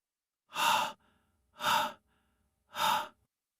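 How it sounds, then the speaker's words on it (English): A large reptile breathes through its broad nose: three slow, heavy exhalations evenly spaced about a second apart, each a breathy whoosh followed by a faint intake, close and isolated. "You can hear the air being pulled in through a broad nose, pulled past rows of teeth"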